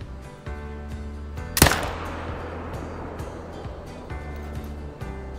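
One sharp, loud rifle shot fired at a fallow deer in the hunting game Call of the Wild, Te Awaroa, cracking out over a low steady ambient drone and fading into a brief echoing tail.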